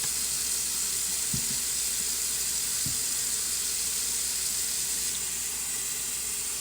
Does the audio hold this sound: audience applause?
no